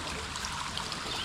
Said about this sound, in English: Looks like the water starts right here and flows downward